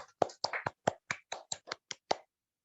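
Hand claps greet a speaker at an indoor Women's Day celebration, about eleven distinct, evenly spaced claps, close and fairly quiet, stopping abruptly into silence with no talk.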